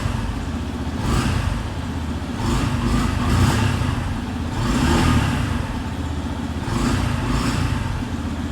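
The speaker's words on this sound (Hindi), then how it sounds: "कोल्ड स्टार्ट भी इस बाइक का ना ये डन हो रहा है।" A Yamaha FZ v3 motorcycle idles after a cold start, giving a steady, close engine rumble that swells in several short rising revs before settling back each time.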